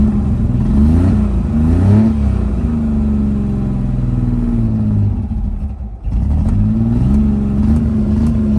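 The small engine of a Suzuki Mighty Boy runs close and loud, revving up and down in several swells, briefly dipping as if nearly stalling, then picking back up to a steady run.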